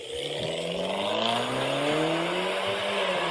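A rear-wheel-drive hatchback with a modified exhaust revs steadily, its engine note rising and holding across the clip, moderately loud with no talk over it.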